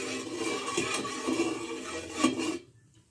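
A utensil stirs water in a kitchen pot, with soft sloshing and a few light metallic clinks against the pot over a couple of seconds, then stopping abruptly.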